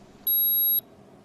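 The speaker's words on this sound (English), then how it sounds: "On the base unit, the probe icon will stop flashing and the unit will beep." A PosiTector PC powder checker base unit gives a single clear electronic beep of about half a second as its wireless probe connects, loud against a quiet room background.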